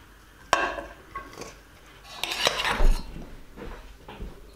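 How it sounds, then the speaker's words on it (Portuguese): Dirty dishes clatter and clink in a kitchen sink after cooking. There is a sharp knock early on and a busier burst of pots and utensils knocking together midway, with no talking. "está na hora de lavar a louça toda que sujei"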